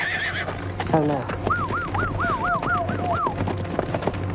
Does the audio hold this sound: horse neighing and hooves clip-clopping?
yes